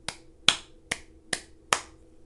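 Five sharp hand claps, evenly spaced about half a second apart, ring out alone and up close during a children's movement activity in which participants imitate animals, here a seal clapping.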